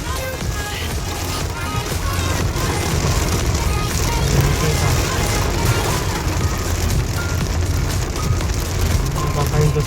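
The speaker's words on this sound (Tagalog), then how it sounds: "Lakas ng ulan!" Heavy rain pouring near a waterfall in the mountains on the Khorfakkan road in Sharjah, a steady dense hiss and patter that holds loud and unbroken throughout.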